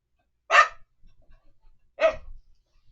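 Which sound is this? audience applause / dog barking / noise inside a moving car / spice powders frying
dog barking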